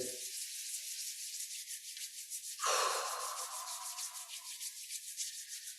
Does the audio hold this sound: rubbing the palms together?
yes